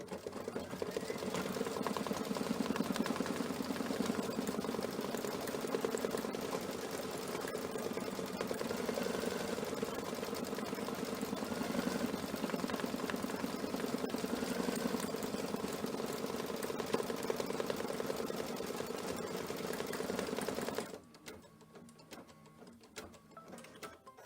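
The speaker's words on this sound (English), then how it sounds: "So I will just put the pressure foot down and start stitching." Embroidery sewing machine working a blanket stitch, a steady, fairly quiet, rapid ticking hum that runs for about twenty seconds before stopping abruptly.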